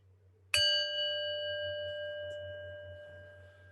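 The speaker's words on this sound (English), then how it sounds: "listen for the chime to dissipate" A meditation chime is struck once after a moment of low hum, ringing clearly with a sustained tone that slowly fades over several seconds.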